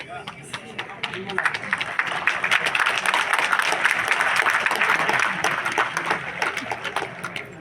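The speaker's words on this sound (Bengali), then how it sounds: "আপনারা কি কেউ হাততালি দিতে পারেন" An audience claps at a motivational talk on focus: a dense, steady wash of many hands clapping together, fairly loud and sustained for several seconds.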